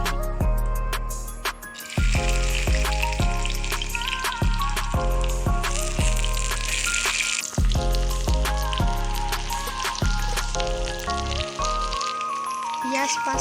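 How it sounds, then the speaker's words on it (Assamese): Chopped onions go into hot oil in a wok, with panch phoron and bay leaves, for a ghugni recipe; a steady, crackling sizzle runs throughout beneath background music. "তেলখিনি গৰম হ'লে ইয়াত মই দিম কাটি থোৱা পিঁয়াজখিনি।"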